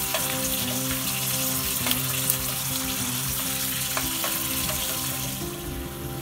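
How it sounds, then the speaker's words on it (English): Corn kernels frying in peanut oil for gluten-free corn nuts, a steady dense sizzle that holds evenly throughout, close and loud, with a few faint clicks of stirring and no voices. "So we let this fry to 3 to 4 minutes. I'm using peanut oil for this."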